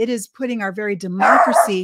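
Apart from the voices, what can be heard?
dog barking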